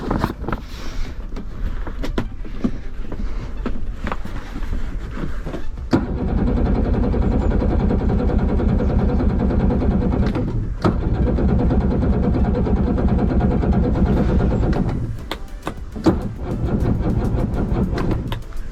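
A Yamaha 60 hp two-stroke outboard motor runs steadily with a loud, continuous droning hum while its cooling water flows, with a few sharp clicks and knocks before and after the steady stretch.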